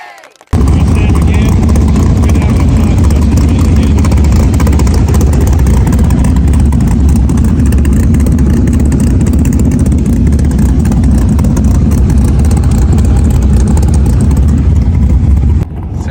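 Turbocharged LS-swapped Ford Fairmont drag car at the drag strip, a loud, steady engine roar that holds continuously for about fifteen seconds with no pauses, close and dominant, with no speech over it.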